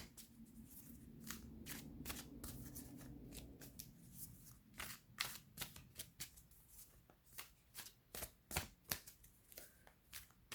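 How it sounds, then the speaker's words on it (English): Tarot cards are shuffled steadily up close, a soft riffling rustle that gives way to a series of sharp, irregular snaps and taps; no one speaks. "Sorry that it takes a while when I'm shuffling on camera."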